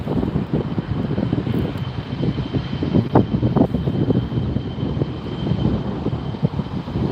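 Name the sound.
airplane approaching to land at LAX airport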